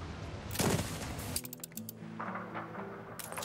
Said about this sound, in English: An explosion in one of your factories.